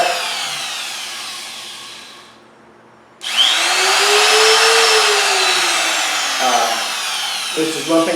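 Bosch Colt 1 HP palm router switched off and spun back up: a loud, steady high whine coasts down and fades into near silence, then the motor restarts with a rising pitch and runs at full speed, with faint handling noises near the end.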